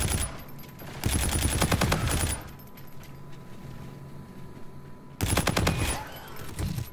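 NV4 assault rifle fire in a first-person video game, two loud bursts of rapid, closely spaced shots about a second long each, separated by a quieter stretch, with another burst starting near the end.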